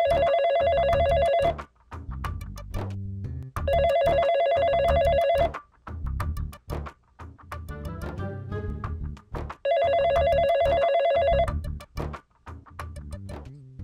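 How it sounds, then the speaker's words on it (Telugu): A telephone rings inside a house, three loud electronic ring bursts about four seconds apart, with a musical background playing between the rings. "ఇంట్లో ఫోన్ రింగ్ అవుతుంది చూడుపో."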